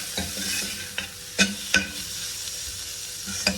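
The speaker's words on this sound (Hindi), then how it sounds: "ये चिकन के पीसेस भी मैं साथ ही डाल देती हूँ, ताकि ये भी साथ ही फ्राई हो जाए।" Chicken pieces fry in a pan for a low-oil chicken and capsicum dish, with a steady sizzle under repeated stirring and several distinct clanks of a utensil against the pan.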